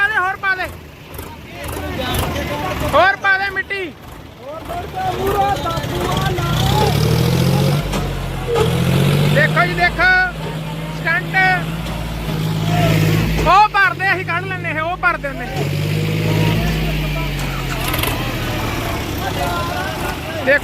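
A heavy tractor engine chugs steadily at a low pitch while soil is loaded into a trolley, with several people talking and shouting nearby over it.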